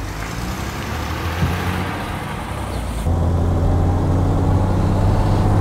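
A 1953 Mercedes 300 S Coupé drives along with a steady, close engine drone and road rumble that grows slightly louder and fuller partway through.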